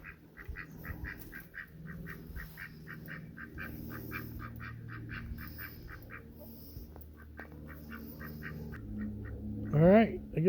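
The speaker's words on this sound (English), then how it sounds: "the ducks are there trying to get in with the chickens" Ducks quacking near chickens in a backyard run, a rapid series of rhythmic quacks at moderate distance, with a louder nearby honking call near the end and low murmuring voices in the background.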